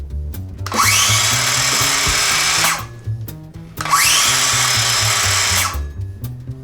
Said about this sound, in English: The most annoying power tool we have is the saw.